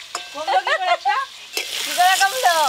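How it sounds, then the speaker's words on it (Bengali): Boiled eggs frying in a pan with a hissing, spattering sizzle that grows stronger in the second half, heard close under a person talking. "সেদ্ধ করে রাখা ডিমগুলো ভালো করে ভেজে নেব"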